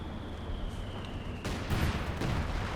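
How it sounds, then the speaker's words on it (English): A Stuka dive bomber strafing run in Company of Heroes 2: a steady drone gives way to a sudden loud burst of impacts and explosive noise that holds through the end. "And incoming Stuka strafe."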